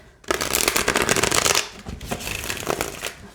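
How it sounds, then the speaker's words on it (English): Tarot cards are shuffled briskly up close, a dense riffling flutter in two bursts separated by a short pause. "they feel really good shuffled"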